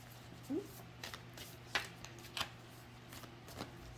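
Soft papery riffling and light taps of tarot cards being shuffled, quiet and intermittent, with a few sharper snaps.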